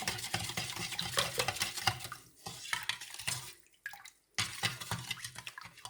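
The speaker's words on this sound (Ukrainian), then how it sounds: "Суль нам треба розмішати, бо вона файно розійшла у воді. Вода холодна, але нам її треба розмішати." Salt is stirred into cold water to make brine for pickling tomatoes, a steady scraping, clinking swirl of a utensil in a container that pauses briefly midway, heard alone and close.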